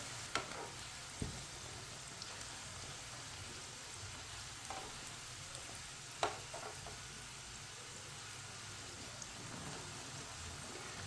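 Aloo finger samosas fry in oil in a pan on a stove, giving a faint, steady crackling sizzle with a few soft clicks of a utensil, and no one talking.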